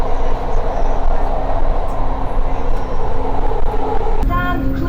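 Steady low rumble and rushing noise of a driverless metro train in Doha in motion, heard from inside, with a brief higher clatter near the end.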